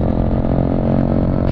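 A Kawasaki Ninja 300 motorcycle engine idles or runs steadily close by, giving a continuous low, even drone with a faint mechanical clatter.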